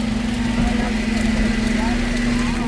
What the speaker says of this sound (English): Sound of the buzzing garbage truck van.